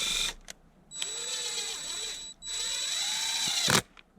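A power drill drives a self-tapping screw into a Mk4 Volkswagen Jetta arm rest hinge, close and loud in two whirring bursts with a brief pause between, the motor pitch sagging under load before it stops.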